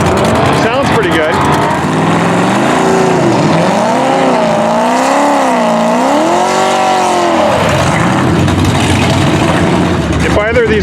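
A Nova and a C7 Corvette drag racing down a quarter-mile strip, engines roaring loud and close as the revs sweep up and down in wavering surges, with voices and crowd noise underneath.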